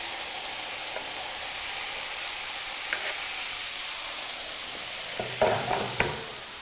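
Chorizo sizzles in a very hot pan, a steady close frying hiss throughout with a few sharp clicks and spatters near the end, no voices.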